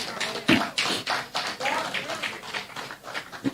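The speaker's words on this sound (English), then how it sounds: "Let us give them a round of applause" An audience at a naming and logo unveiling ceremony breaks into applause, a steady patter of claps rising and falling over about three seconds, with voices mixed in.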